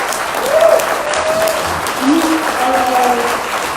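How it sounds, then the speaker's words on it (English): Sustained audience applause at a Sundance 2020 panel on online harassment, a dense steady wash of many hands clapping for several seconds, with a few voices calling out faintly beneath it. "can we get a huge round of applause?"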